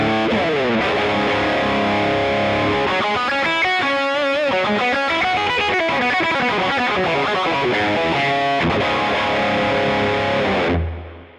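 An electric guitar plays through the stacked twin drives of a Crazy Tube Circuits Unobtanium pedal, thick saturated distorted chords and bending sustained notes, loud and alone, ringing out and cutting off at the end.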